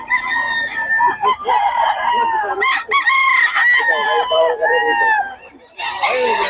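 A stag rooster crows loudly and close by, several long harmonic calls in succession with clucking fowl around and a voice talking in between.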